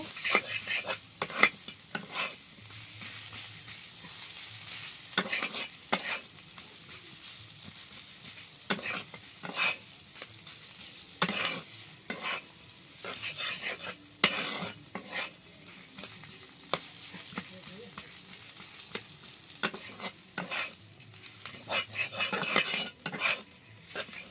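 A spatula scrapes and taps against a pan as food fries with a soft, continuous sizzle, making an irregular series of clinks and scrapes at close range while sandwich filling is prepared.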